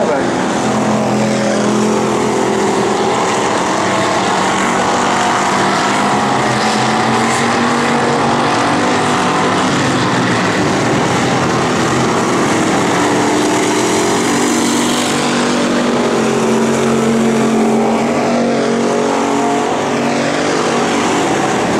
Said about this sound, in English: a little push in the 50 car, and gets Plant third as they go down the back straightaway